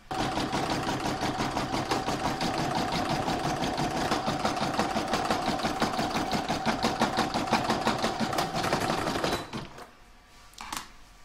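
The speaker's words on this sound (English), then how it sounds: "I'm now going to pop that in my machine and stitch round number 27, which is going to attach the backing." An embroidery sewing machine stitches a round that attaches quilt backing on a hooped patchwork star, a fast steady mechanical chatter running for about nine seconds before stopping, followed by a couple of brief clicks.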